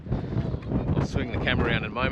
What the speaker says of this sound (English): It's just pretty blowy.